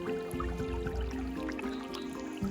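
Water running and trickling into an acequia irrigation ditch in the countryside, a steady close liquid flow with small drips and gurgles throughout, no voices.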